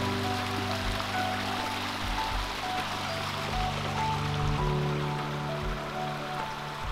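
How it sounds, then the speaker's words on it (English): Water flowing steadily outdoors at Greenbooth Reservoir, a continuous even rushing and trickling wash heard close and unbroken throughout, with a faint low rumble underneath. "Things like this are easy to miss, and the sound of water is priceless."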